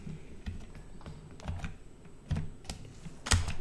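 Code being typed on a computer keyboard, with soft, irregular key clicks and a few sharper keystrokes at close range and no talking.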